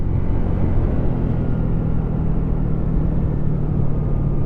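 Cheap new Honda motorcycle with a CVT gearbox being ridden, a steady close engine drone mixed with rushing wind noise, with no pauses.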